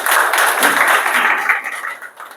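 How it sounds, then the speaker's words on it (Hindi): Loud, sustained applause from an audience at a DXN product sales talk, a dense steady clatter of many hands that thins out and fades toward the end. "जोरदार ताली सबके लिए।"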